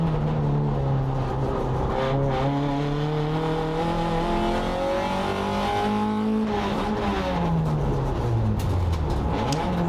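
A race car in wet practice on a circuit, exiting turn 6, its engine revving up steadily in rising pitch, with a shift and drop then renewed climbing, loud and close.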